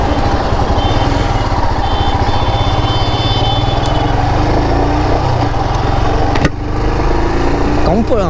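A Royal Enfield Himalayan's engine drones steadily and loudly throughout a ride, with continuous wind buffeting over the low engine note and a brief dip near the end.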